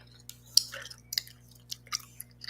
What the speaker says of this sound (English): Forgot to chew gum.